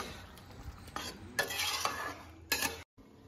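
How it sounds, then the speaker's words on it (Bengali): Onions stirred in a cooking pan with a utensil scraping the metal, steady scraping strokes with a brief louder clatter near the end before cutting out, close up and with no voices. "আর পেঁয়াজটা অ্যাড করে দেবো। দিয়ে একটু নাড়িয়ে দেবো।"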